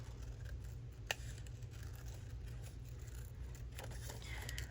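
Scissors cut a paper chick shape out of a journal page, giving a few faint, quiet snips and soft paper scrapes against a low background hum.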